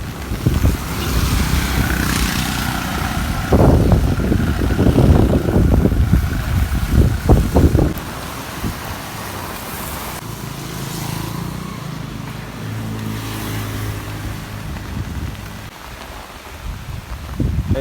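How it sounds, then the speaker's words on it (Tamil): Strong wind roars and rain pours steadily during flooding in Jaffna, loud gusts at first, then easing into a softer rush of wind and rain. "காற்று கூடிக்கொண்டிருக்குது, மழையும் கூடுது"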